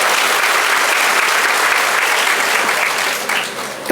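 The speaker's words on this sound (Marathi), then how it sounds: "एकदा टाळ्या होऊ द्या ना" Audience at a teachers' honour ceremony breaks into steady, dense applause, loud and sustained throughout before tapering slightly near the end.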